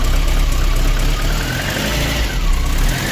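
A VAZ 2108 with a 1.3 engine idles steadily after a cylinder head replacement, a loud, close, even mechanical hum with a faint light ticking and slight rises in pitch, no voices.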